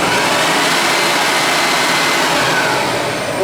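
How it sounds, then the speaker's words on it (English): A small vacuum cleaner runs on power from a 2-cycle gas generator, making a steady, loud broadband whir that holds unchanged for a few seconds with no talk. "We're going to try a small vacuum cleaner."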